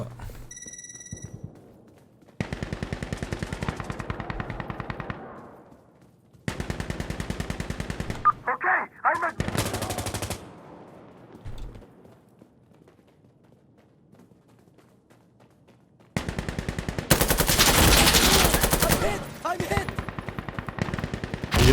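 Gunfire in Insurgency: Sandstorm comes in loud automatic bursts of several seconds each, broken by quieter gaps with faint game sounds, and the last long burst is the heaviest.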